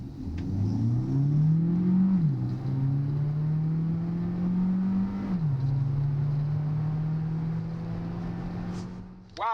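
A Citroen C5 AirCross Plug-In Hybrid with 225 horsepower accelerates hard from a standstill, its engine note climbing steadily through two clear gear changes, heard close from inside the cabin.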